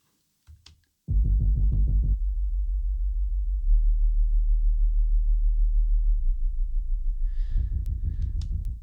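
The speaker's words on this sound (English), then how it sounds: "It's a lot of that low-end rumble" Low-end rumble cut from a synth pulse in Cubase, heard alone as a deep sustained tone that starts abruptly, holds steady for several seconds and swells slightly near the end.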